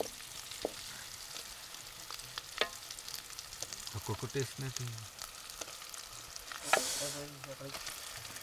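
Chili-coated fish pieces fry over an open fire at night in the Araku hills, a steady sizzle and crackle running throughout with a few sharper pops and a brief louder hiss near the end.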